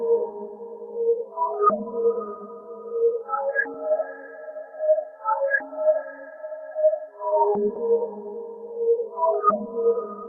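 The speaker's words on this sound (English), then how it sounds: "And this pad was actually a bell. That was bell 17 from the Sinister's one-shot kit." A sustained bell-derived pad, bell 17 from Sinister's one-shot kit, offset by a quarter bar, drifts through layered tonal chords with slow swells and a few soft transitions, heard alone.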